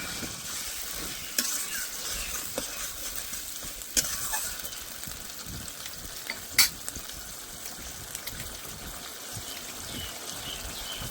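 Prawn masala frying and being stirred in a pan for a Bengali malai curry, a steady close sizzle with intermittent scraping and clinking of the spoon against the pan, with no voices.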